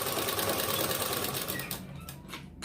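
Close and loud, a sewing machine runs steadily while stitching moti lace onto a dupatta, its even mechanical hum thinning out slightly toward the end.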